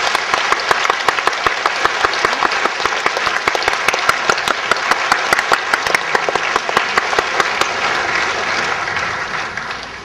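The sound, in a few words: congregation applause of thanks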